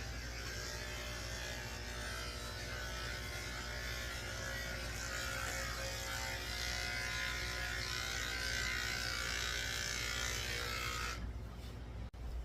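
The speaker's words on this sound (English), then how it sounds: "I'm going to use a 7 blade on the inside of his back legs because that way it just stays cleaner underneath." Electric dog clippers fitted with a 7 blade shave the inside of a toy poodle's back legs at a groomer's, a faint, steady close buzz that runs without a break and cuts off abruptly near the end.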